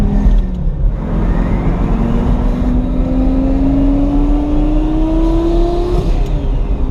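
A rebuilt 2000-horsepower Lamborghini accelerates at roughly quarter throttle, its engine note rising steadily in a long continuous pull with loud, constant road and drivetrain roar and no talk over it.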